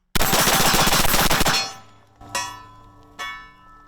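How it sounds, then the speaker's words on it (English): Rapid string of about a dozen .308 shots from an AR-10 rifle fired as fast as possible, loud and sharp with ringing echoes, followed by two separate single shots after a pause. "It is an AR-10. It's like shooting a 308 really fucking fast."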